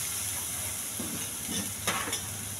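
Spices being stirred in a frying pan for bottle gourd fry, with chilli powder and coriander powder added: a faint, low sizzle with a few soft scraping stirs in the middle, no voices.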